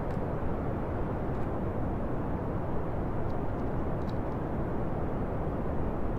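Rocket engine thrust in Kerbal Space Program, a steady, loud, broadband roar holding constant throughout with no talk over it.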